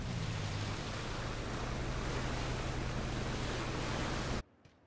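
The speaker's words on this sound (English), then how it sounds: "I'm sure they're gonna hear that boat from this position." A steady, loud broadband roar with a low engine hum underneath runs for over four seconds, then cuts abruptly to near silence. A boat engine in the video game PUBG.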